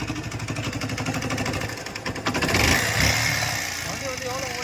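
A Yamaha FZ motorcycle engine with a suspected noise problem in the head or cylinder runs steadily up close, its rough mechanical chatter swelling briefly midway.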